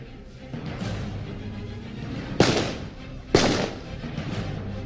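Gunfire traded between police and suspects during a raid: two sharp, loud reports a second apart ring out over a steady, noisy background with no talking.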